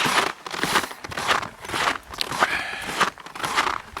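Snowshoes crunch over snow on a moonlit hike, a steady rhythm of close, loud, gritty footfalls that crackle and compress with each step, heard on their own with no talking.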